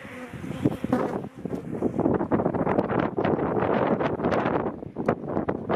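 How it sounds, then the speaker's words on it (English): Wind gusting across an open beehive during a spring inspection, loud rough buffeting mixed with the close, continuous buzz of many bees throughout. "as you can see, the wind is really blowing"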